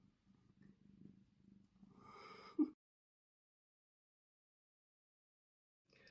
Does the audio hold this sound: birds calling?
no